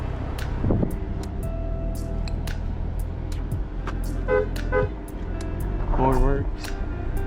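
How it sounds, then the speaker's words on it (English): A car horn on a 300 sedan bought off a marketplace, with black leather seats and sticky brakes, gives two short honks over a steady idling engine and road-like rumble, with a voice nearby. "Horn works."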